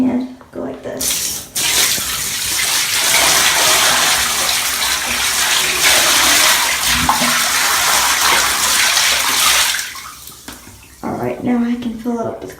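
Clean water pours from a tap into a bucket in a steady, loud gushing rush that lasts about eight seconds. Brief knocks and handling sounds come before and after it.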